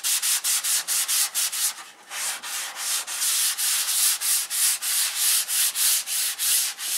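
Light hand sanding with 320 grit paper across a silkspan-covered sheeted model wing, a steady rhythm of close, brisk rasping strokes roughly every third of a second with a brief pause, no talk.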